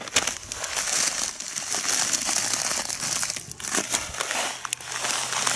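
Dry urea (carbamide) granules crinkle and rustle as they are handled and measured out for a fruit-tree spray solution, a steady close-up crackling with small crunchy bursts throughout.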